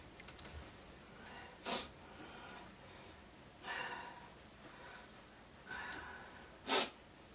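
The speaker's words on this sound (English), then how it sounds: "Sorry for the sniffles, guys." Several quick, close nasal sniffs recur at uneven intervals over a quiet background hiss, with no talking.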